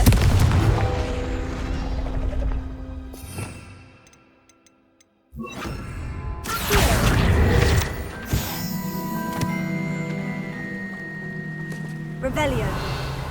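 In the Hogwarts Legacy video game, a Confringo fire spell goes off with booming blasts and crackling debris, set among busy gameplay effects and a brief near-silent gap.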